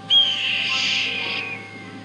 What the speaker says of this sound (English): That sounded like a hawk.